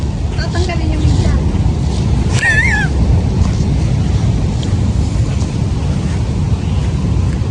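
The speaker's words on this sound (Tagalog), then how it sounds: "So, malakas yung hangin dito sa part na to." Strong wind buffeting the microphone over rolling surf at a beach in San Antonio, Zambales, a loud constant roar with a voice speaking briefly near the start.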